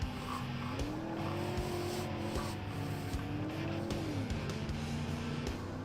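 An 80s offroad utility vehicle in a racing game drifts with its rear differential locked, the engine droning steadily while tires squeal in long wavering pitches underneath, loud and continuous without talk.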